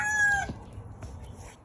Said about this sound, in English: and there's the other chicken.